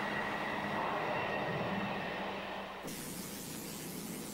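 A European train running on rails, a steady rushing rumble with rail noise that drops to a softer hiss partway through, moderately distant and with no voices.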